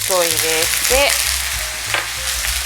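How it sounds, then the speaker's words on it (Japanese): Lotus root patties stuffed with meat sizzle steadily in a frying pan as a little water is added on low heat, with bursts of crackling and a few soft clinks of utensils. "上下を返せたら弱火にしてお水ちょっと入れて"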